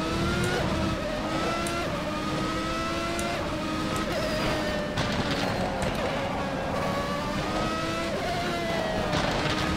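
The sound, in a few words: racing car engine in the video game rFactor 2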